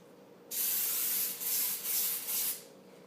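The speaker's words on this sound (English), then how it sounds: "you have to grease your pan with nonstick spray" Four short bursts of nonstick cooking spray hissing close by onto a pan, the first long and the rest briefer, separated by tiny pauses.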